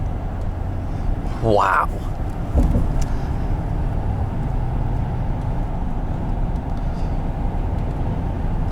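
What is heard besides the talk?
turbocharged V8 pickup truck engine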